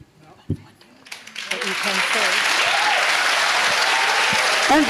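An audience at a residents' assembly meeting in a pavilion breaks into applause that swells from a few claps into steady, full clapping, with a voice speaking briefly at the start.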